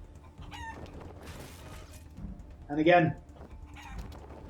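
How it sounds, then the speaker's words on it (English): A chicken in the Wasteland 3 video game gives a high crow early on, then a loud burst of clucking, with a final squawk at the end, heard amid combat noise and a talking voice. "Chicken, what are you doing?"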